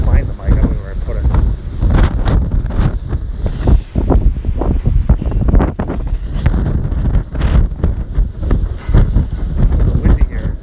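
Strong typhoon winds from Typhoon Hato buffet the microphone in Hong Kong, a loud, continuous roaring rush with gusting surges throughout.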